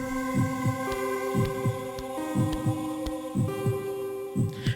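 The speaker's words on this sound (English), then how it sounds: "Why is my heart beat so loud?" Loud, throbbing double-beat heartbeat from the horror game Dementium: The Ward, repeating steadily in close lub-dub pairs over a sustained droning hum and ambient tones.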